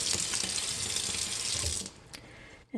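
Tap water running while a rhinestone tumbler is rinsed in a kitchen sink, a loud, steady splashing stream that cuts off near the end, followed by a few faint clinks.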